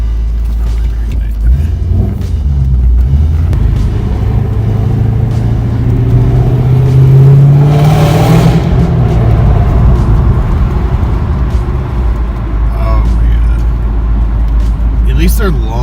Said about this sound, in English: ever since I redid the exhaust, I kind of enjoy driving through tunnels